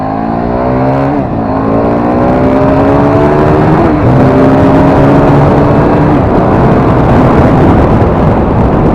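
A KTM RC8 V2 sport motorcycle engine revs hard through the gears, loud and close, with rising harmonic sweeps that drop at each shift and climb again, no talk over it.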